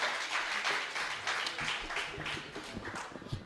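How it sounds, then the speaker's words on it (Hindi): Audience applause at a Hindi comic poetry gathering, a crowd clapping steadily that gradually thins and fades, with a few scattered voices and knocks near the end. "आप एक बार और जोरदार तालियों से उनको आमंत्रित"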